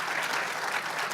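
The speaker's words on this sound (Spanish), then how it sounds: "le pedimos un aplauso adicional por su plática tan interesante" Audience applause at a supply chain security day opening event, a dense, even wash of many hands clapping, steady and sustained throughout the short moment with no voices above it.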